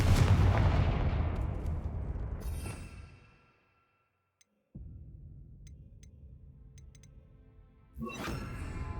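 Bombarda and Confringo spell blasts in the video game Hogwarts Legacy: a loud booming impact that fades to near silence, then a sharp crack with a lingering rumble and a second burst near the end.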